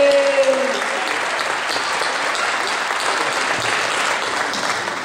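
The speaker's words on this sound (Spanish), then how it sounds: "fuerte aplauso al Señor" A church congregation bursts into steady, dense applause that fills the whole stretch, loud and even, with a brief voice at the very start.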